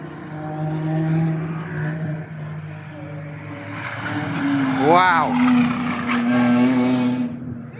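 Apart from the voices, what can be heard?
track car engine and tyres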